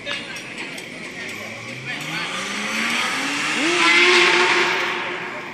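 A white bus drives up onto a tow truck, its engine rising and falling under a loud, swelling rumble as it climbs, with tyre and mechanical noises near the end.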